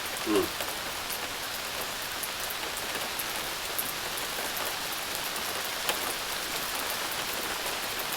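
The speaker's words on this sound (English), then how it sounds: "Sound of that rain is so peaceful." Steady rain falls on surfaces nearby, a soft continuous patter with occasional louder drops.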